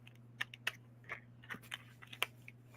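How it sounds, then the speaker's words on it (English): Scissors snip open a plastic pack of heavy duty sewing needles in a quiet room, a series of short dry clicks and crinkles spaced irregularly over a steady low hum. "I'm going to find some scissors that I don't care about to cut this"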